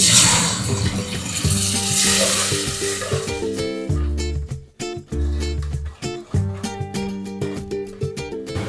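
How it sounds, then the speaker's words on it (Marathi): Water splashes into a hot pan of chicken masala with a loud hissing rush for a few seconds, while music plays in the background. "थोडंसं पाणी घालते"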